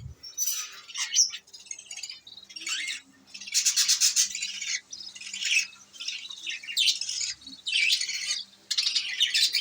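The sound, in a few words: budgerigars chirping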